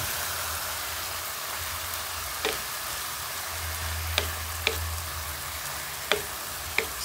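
Chicken frying in a pan with sliced onions and ginger for chicken adobo with annatto, a steady soft sizzle broken by a few sharp utensil taps against the pan, close and fairly quiet with no talking.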